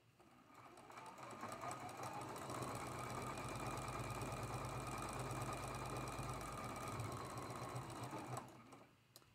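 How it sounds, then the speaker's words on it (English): A sewing machine stitches a quilt block seam in one continuous run of fast, even stitching lasting several seconds, close and clear, then stops. "Then we're going to flip it over and sew that seam."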